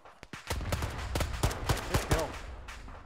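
Rapid bursts of video game gunfire in a military battle against a Bradley armored vehicle, loud overlapping shots and volleys firing in quick succession across the whole stretch.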